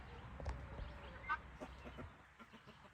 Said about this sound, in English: I think the hens are even crowing.